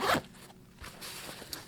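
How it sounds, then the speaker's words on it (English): A zipper on the back pocket of an Alaska Guide Creations Kodiak C.U.B Max binocular harness opens with a quick, loud rasping pull, then gives way to faint handling rustles. "And then we have one final zip pocket on the back"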